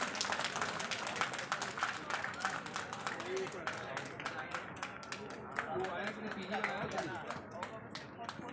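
An audience at a college youth festival mimicry performance applauds with steady, dense clapping throughout, moderately distant and continuous.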